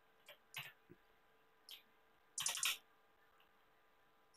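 Typing on a computer keyboard, a few sparse isolated key clicks followed by a short quick burst of several keystrokes, close and fairly quiet with no talking.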